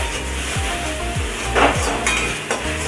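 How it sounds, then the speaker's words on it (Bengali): Masala for chicken curry is stir-fried in a pan, giving a continuous close sizzle. Three or four spaced scraping strokes of a spatula run through it, with no talking. "মশলাটাকে ভালো করে কষিয়ে নিচ্ছি"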